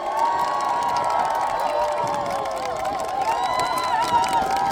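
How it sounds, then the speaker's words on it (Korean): A crowd at a Lee Jae-myung presidential campaign rally in Yongin cheers and shouts, with whoops and scattered clapping under amplified, echoing voices. "우리 내부 국회의원 앞으로 더 잘하라고 한 번만 더 박수 부탁드립니다"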